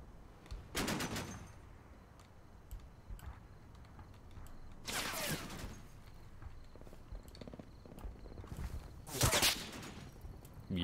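Bursts of .50 cal machine gun fire in the war game Combat Mission Black Sea, three rattling volleys a few seconds apart over quieter scattered shots, somewhat distant and faint, with no talk.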